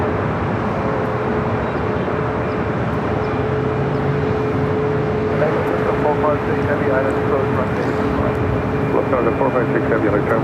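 A Lufthansa heavy airliner approaching to land at LAX, its engine roar a steady, loud drone throughout, with radio chatter and voices over it.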